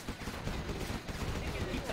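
Sustained gunfire from a Gatling tank in the C&C Zero Hour strategy game, a dense continuous rattle of rapid shots mixed with battle noise, with a voice faintly present over it.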